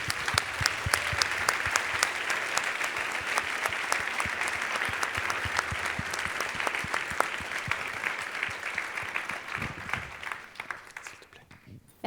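A crowd applauds to welcome a speaker at a student engagement celebration, a long, fairly even stretch of many clapping hands with distinct individual claps, fading away at the end.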